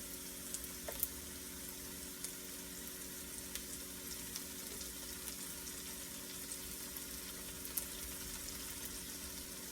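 A tablespoon or two of butter sizzles in a hot pan for fried rice, a soft, steady crackling hiss that runs faintly and evenly throughout with no talking.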